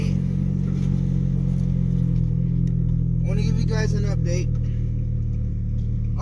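A car engine fitted with newly installed headers idles and revs with a steady low rumble, while someone talks briefly over it partway through.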